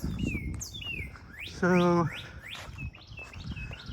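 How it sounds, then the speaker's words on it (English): Birds chirp and call in the woods on a hot July morning, several short bright tweets and a brief harsher call, with quiet talk underneath. "You hear the birds."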